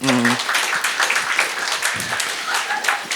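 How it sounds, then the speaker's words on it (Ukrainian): Broadband audience applause at a stand-up comedy show fills the clip, loud and steady, with a brief voice at the start. "Оплески, будь ласка."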